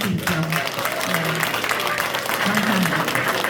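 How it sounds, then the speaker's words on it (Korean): A crowd applauds steadily for several seconds at a book launch event in Korea, a dense continuous wash of clapping with a faint voice murmuring underneath. "여러분, 이런 윤상현 의원에게 다시 한번 박수 부탁드리죠."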